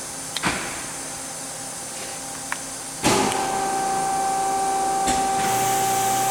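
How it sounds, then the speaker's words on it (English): The coolant pump on a Weldon 1632 Gold CNC universal cylindrical grinder kicks on about halfway through with an abrupt onset, then holds a steady, close motor hum and whine, after a few faint clicks in a quiet shop. "I'm going to start up the pump, clear the E-stop hopefully"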